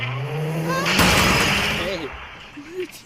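A car in the Granny horror video game drives off, with a revving engine tone, then a sudden crash and shattering impact, followed by squealing skids and game sounds.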